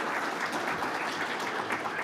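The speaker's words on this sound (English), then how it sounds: "please give him a round of applause for that" An audience at a red meat industry forum claps together in a dense, steady round of applause that holds at an even level for the whole short stretch.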